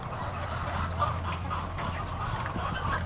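Caged laying hens on a poultry farm clucking steadily while eating feed, a continuous chorus of many birds at moderate distance with a low mechanical hum underneath.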